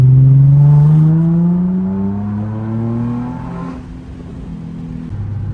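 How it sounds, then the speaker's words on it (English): A Nissan 350Z pulling hard in second gear, its engine note climbing steadily and loud, then dropping briefly and settling, heard from inside the car. "Let's get maybe like a second gear pull here."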